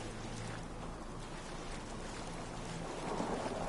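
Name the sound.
rainstorm with wind at night in Fallout 4 video game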